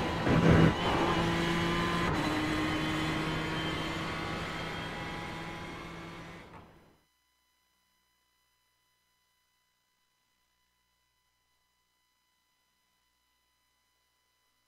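Race car engine from the iRacing sim lapping Road Atlanta in an Autobahn Motorcar Group sportscar, a loud sustained engine drone with gear shifts for about seven seconds, then cutting abruptly to silence.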